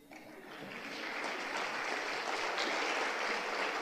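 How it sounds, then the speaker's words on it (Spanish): A church congregation applauding steadily, the clapping swelling quickly and holding at an even, dense level throughout. "dense un aplauso"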